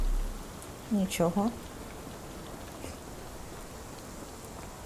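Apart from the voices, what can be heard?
rain in London, Sherlock Holmes The Awakened video game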